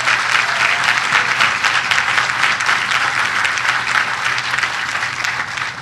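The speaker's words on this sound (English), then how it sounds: "yes, he deserves a round of applause." Dense, sustained audience applause at a ribbon-cutting event at the Brooklyn Navy Yard's Building 92, a loud unbroken roar of many hands clapping that holds steady throughout and eases off slightly at the close.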